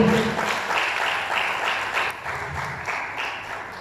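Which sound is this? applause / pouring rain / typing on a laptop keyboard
applause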